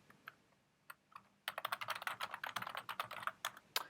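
Keys on a computer keyboard are tapped for a DNS lookup: a few scattered isolated keystrokes, then a fast, dense burst of close, crisp typing for the last couple of seconds.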